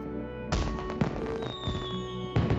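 Fireworks display in the video game Trails to Azure: several sharp booming bursts and a rising whistle ring out over a steady musical backdrop, with no talking.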